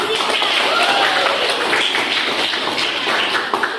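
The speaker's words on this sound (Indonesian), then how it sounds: "Iya, berikan aplaus." Classroom applause during an Indonesian lesson: a dense, steady patter of many hands clapping together that holds for several seconds before thinning out at the end.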